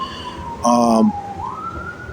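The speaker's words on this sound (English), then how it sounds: "hold up, we hear sirens" A police siren wails nearby, a loud rising and falling tone that swells briefly and then sweeps upward, with faint background noise.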